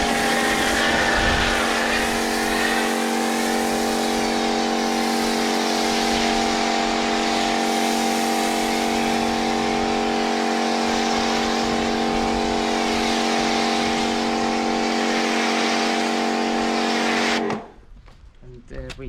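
A pressure washer with an Autoglym snow foam lance sprays a car, a loud steady motor drone with a constant hiss of spray that runs unbroken and then cuts off abruptly near the end.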